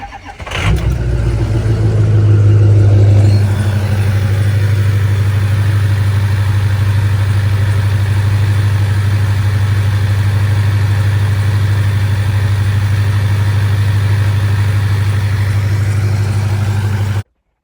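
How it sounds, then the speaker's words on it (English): Pickup truck engine starting on a cold, rainy morning, a short crank catching into a loud rev, then settling into a steady close idle that runs on alone. "we're just gonna start my truck"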